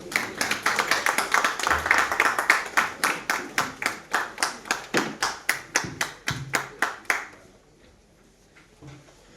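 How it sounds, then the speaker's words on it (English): Audience applause welcoming a lecturer, heard as a small group's clapping that settles into a steady, rhythmic unison beat before stopping, fairly close and moderately loud. "Welcome ma'am with a applause"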